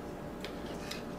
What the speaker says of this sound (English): We're going to take some of our wire,